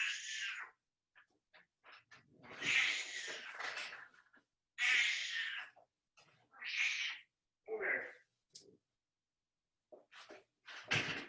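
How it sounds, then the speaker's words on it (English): A 17-year-old cat with pins in her legs meows and caterwauls repeatedly in close, loud bursts, with short gaps and some snorting breaths between calls. "She is a 17-year-old cat"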